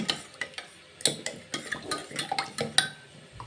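A spoon stirring sugar and basil seeds into a grape ice mixture in a bowl, with a quick series of close scraping clinks against the container and no voices.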